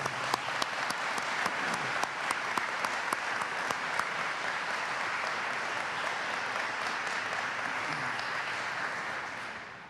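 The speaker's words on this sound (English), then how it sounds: "So a round of applause for all the families at home." Sustained audience applause at a Veterans Day celebration, a dense wash of many hands clapping steadily for several seconds before tapering slightly at the end.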